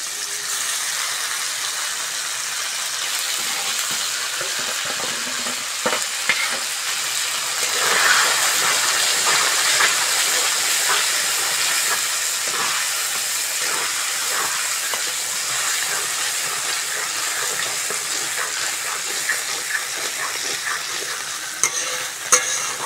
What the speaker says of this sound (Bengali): মশলাটা ভালো করে কষে নিয়েছি, মশলা থেকে তেল ছেড়ে দিয়েছে।